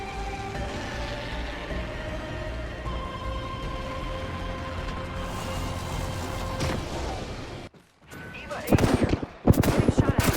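Video game gunfire arrives as a steady, moderately loud rattle under a humming background, then breaks into sharper, louder rapid shots near the end after a brief drop to near silence.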